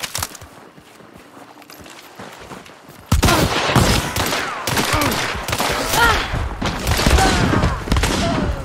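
First-person shooter video game gunfire: after a few quieter seconds, loud, dense volleys of shots and rapid fire erupt and continue nearly without pause, close and forceful.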